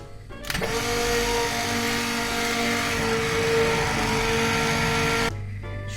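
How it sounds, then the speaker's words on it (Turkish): A blender purees lentil, potato and carrot soup, running steadily for about five seconds with a loud, constant whirring motor hum, starting and stopping abruptly. "Şimdi bunu blenderdan geçiriyoruz"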